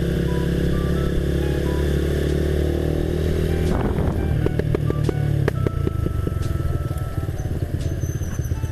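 Motorcycle engine idling, then revved hard with a burst of sharp crackling exhaust pops and backfires, loud and close.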